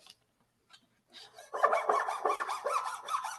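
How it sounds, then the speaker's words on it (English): A small hand tool rasps and saws through a wooden grand piano hammer shank, starting with a few faint ticks and then settling into a close, steady scraping cut that runs to the end. "we're going to cut this hammer shank as well"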